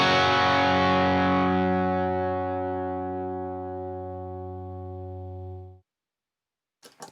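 An electric guitar plays through a Line 6 Helix amp modeler set to a crunchy Plexi-style tone: a single loud distorted chord rings and decays for about six seconds, then is cut off abruptly, followed by a brief faint noise.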